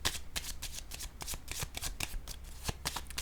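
A card laid down on a table, with quick papery flicks and soft slaps of cards handled in a rapid, irregular series, close and quiet.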